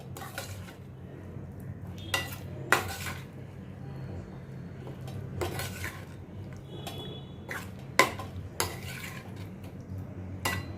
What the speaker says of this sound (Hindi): इसमें अभी मैं ये उबले हुए आलू डालती हूँ और इनको अभी बस मैं थोड़ा मिक्स करती हूँ मसाले के साथ